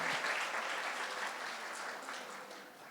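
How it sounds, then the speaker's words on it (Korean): An audience at an indoor gathering breaks into applause, a continuous, fairly soft wash of clapping that slowly fades over about three seconds. "박수 한번 부탁드립니다."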